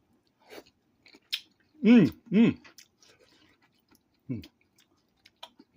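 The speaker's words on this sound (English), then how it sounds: "I eat the shrimp." Close, moist chewing of Cantonese-style black bean sauce prawns, with soft clicks and a few short voiced murmurs between bites.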